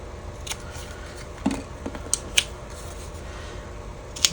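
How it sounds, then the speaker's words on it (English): Scissors snip through paper edges while trimming pieces for a folio journal, a few separate close cuts spaced irregularly with light paper handling between them. "I'm just going to cut off these edges."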